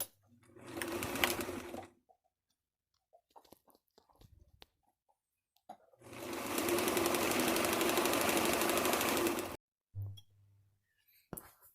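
Sewing machine hemming the long edges of a cloth face mask: a short run of rapid stitching, a pause with small handling clicks, then a longer steady stitching run of about three and a half seconds, close and clear.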